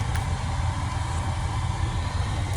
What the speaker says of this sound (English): so what you're hearing is the heater for my sleeper.